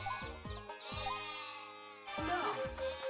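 Sheep bleating in the Wii Party minigame Ram Jam, repeated short animal cries over upbeat game music, fairly loud and continuous across the moment.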